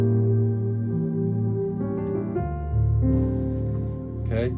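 Piano voicing a dominant seventh chord with a flat 9, a sustained chord that shifts into a following voicing and rings out close and clear, with no talking.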